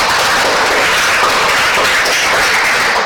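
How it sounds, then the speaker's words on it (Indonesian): A classroom group applauds in a steady, dense wash of clapping that holds at full strength for the whole stretch, loud and close, with no talking over it. "Mari kita beri tepuk tangan."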